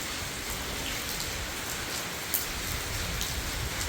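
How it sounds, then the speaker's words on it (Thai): Heavy morning rain falling over rice paddies, a dense steady hiss of drops with no gaps, fairly loud and close, with no speech. "ฝนตก"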